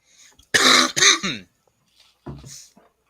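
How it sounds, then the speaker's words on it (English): A harsh, loud throat clearing followed by a shorter, softer cough, close by, with a quiet pause between. "I've been coughing and hacking ever since I came back"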